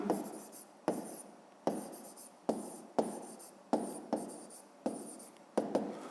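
A pen scratches on paper during a fifth-grade math exercise, in quiet, rhythmic strokes about once every second, close and soft with no voices.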